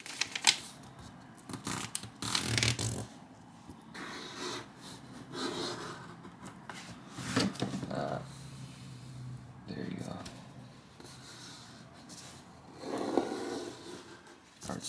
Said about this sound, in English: First of all, you want to fold this in half, just to make the prints